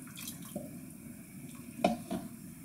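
A flour-and-water mixture for Moroccan harira soup of tomato, chickpea and lentil is poured into the pot, giving soft liquid splashes and drips with a couple of sharper splats near the end, close and moderately loud, with no talking.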